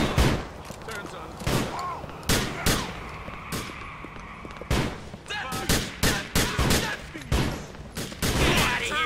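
Gunfire in GTA The Lost and Damned: loud, close bursts of shots with sharp attacks, fired in clusters with short gaps, partly under shouting voices.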